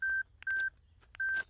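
A telephone is dialed: three clear, evenly paced keypad tones, each a short steady beep, sounding alone against a quiet background.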